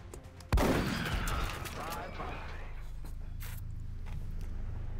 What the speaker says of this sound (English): That was quite an epic shotgun blast.